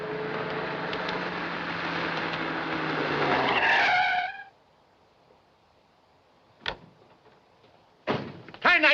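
A car in a 1940 film drives off with a loud, sustained tire squeal and engine roar for about four seconds, then silence broken by a sharp knock and a final burst of clattering noise.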